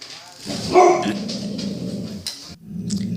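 Dogs bark loudly and repeatedly at a mail carrier, with yips and a growl rising into a burst of barking near the start, mixed with a voice talking over them indoors.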